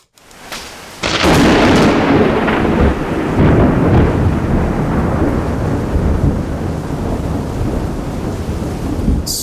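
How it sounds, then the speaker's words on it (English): A loud thunderstorm breaks with a sudden crash of thunder that rolls on continuously, heavy rain hissing underneath throughout. "Storm clouds roiling."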